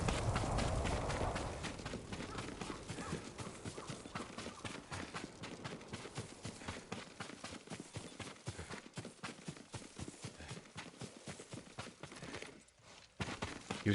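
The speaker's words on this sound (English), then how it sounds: "Yuriko's horse. She can't be far." Hooves of a galloping horse in the video game Ghost of Tsushima beat in a quick, steady clip-clop rhythm throughout, fairly faint, with brief pauses near the end.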